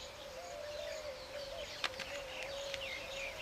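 Weaver birds calling, soft and distant: a thin sustained note runs under a few brief chirps, with no voices.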